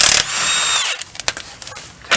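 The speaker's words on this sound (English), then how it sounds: "Loosen all the lug nuts." A power tool breaks loose lug nuts on a Toyota wheel during a rear brake job. One loud, harsh burst at the very start fades into faint clatter and a few small knocks.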